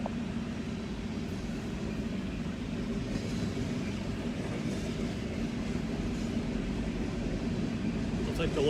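A local train rolls steadily through at moderate distance, a continuous low rumble with faint rattling that holds level throughout and swells slightly at the end.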